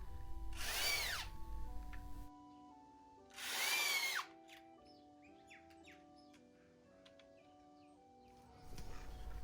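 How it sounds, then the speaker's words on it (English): A cordless power drill drives screws to fasten hinges onto a wooden gate, in two loud, close bursts of about a second each. Birds chirp outdoors in the pauses, and a faint whir starts again at the end. "When I hang gates, I screw the hinges on first."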